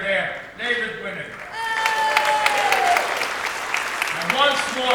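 An audience at a concert breaks into warm applause, a steady wash of clapping that swells in the middle while a voice speaks over the start and end.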